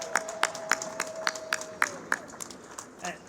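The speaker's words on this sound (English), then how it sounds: "A round of applause." A small crowd claps in sparse, uneven bursts at a FIFA World Cup trophy tour event after a countdown, fairly quiet with a sustained tone in the background.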